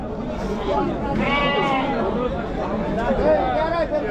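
Sheep and goats bleat at a large roadside livestock market in Chakan, Maharashtra, with several nearby calls rising over a busy crowd while people talk throughout.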